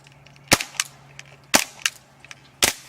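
A Well G196 Mauser C96 CO2 airsoft pistol fires three sharp, loud BB shots about a second apart, each followed by faint clicks and rattles of the gun.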